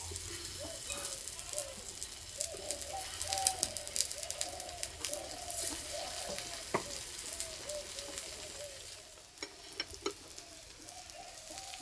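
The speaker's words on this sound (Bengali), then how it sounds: "আমি চাটুতে ভেজে নিচ্ছি, আপনারা চাইলে কড়াইও ভেজে নিতে পারেন।" Oil sizzling steadily as a potato and wheat flour flatbread fries on a hot iron tawa, with a continuous crackling hiss close by and faint cooing of doves in the background.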